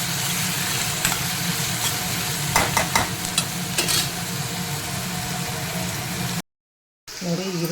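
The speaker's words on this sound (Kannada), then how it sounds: "ಈರುಳ್ಳಿ, ಸ್ವಲ್ಪ ಕರಿಬೇವು ಹಾಕ್ತಾಯಿದ್ದೀನಿ. ಚೆನ್ನಾಗಿ ಬಾಡಿಸ್ಕೊಳ್ಳೋಣ." Onion and curry leaves sauté on a low flame for vegetable saagu, a steady sizzle with a cluster of stirring scrapes midway, then a brief cut to silence before the frying resumes.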